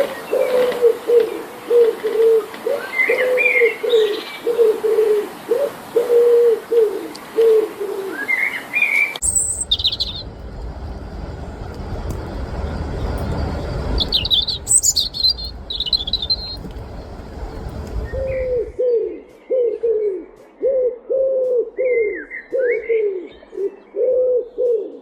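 Birds sing and coo with repeated rhythmic cooing phrases of pigeons or doves and bright chirps and tweets above them, fairly close and steady, broken in the middle by a stretch of broadband noise before the cooing returns.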